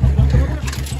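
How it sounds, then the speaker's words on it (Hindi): A motorbike engine thumps close by in a rapid, regular low pulse, about five beats a second, loud enough to swamp the surroundings. "भाई की बाइक की आवाज़ से हमारी आवाज़ ही ना आ रही"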